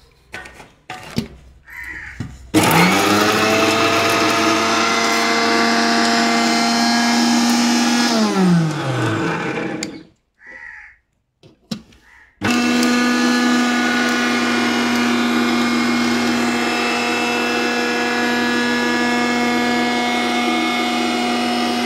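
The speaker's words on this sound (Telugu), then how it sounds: "మిక్సీ ఎక్కువ వేడి ఎక్కువకుండా పట్టుకోవాలన్నమాట." A mixie (mixer grinder) whirs in two long, loud, steady runs, the first winding down before a short pause, the second starting again at full speed.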